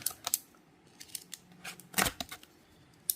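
Unboxing of a Beyblade X spinning top toy (Sphinx Cowl): close, crisp crinkles and sharp tearing snips of plastic packaging in short irregular bursts, with a louder rip near the middle, no talking.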